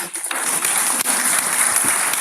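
A burst of loud, dense applause from a large church congregation during a worship service, continuous and sustained for a couple of seconds.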